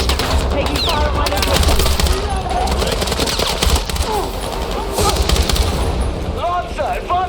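Dense, loud gunfire from a Battlefield 6 battle, rapid automatic bursts overlapping with single shots in an unbroken barrage, with shouted voices mixed in.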